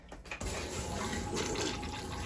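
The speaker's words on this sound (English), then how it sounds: "That's how a toilet is supposed to flush." A household toilet with a newly installed filter on its water line flushes in a loud, steady rush of water that continues into refilling, close by and with no talking.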